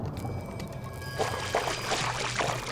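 Wading through shallow water in a horror video game, with soft sloshing and splashing swells from about halfway through, a few distinct surges over a faint ambient hum, fairly quiet and with no talking.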